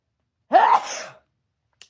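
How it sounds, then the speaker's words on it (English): A single person sneezes once, loud and close: a sharp rising intake bursting into a brief spray, followed by a short pause and a small click, in an otherwise quiet room. "Oh, my sneeze."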